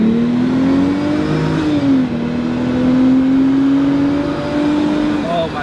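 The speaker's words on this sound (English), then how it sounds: "Hearing that supercharger whining in the blowout valve, wow." A supercharged Jeep Wrangler accelerates hard from a green light, its loud engine roar carrying a rising supercharger whine that dips and climbs through gear changes, with a faint blow-off hiss near the end.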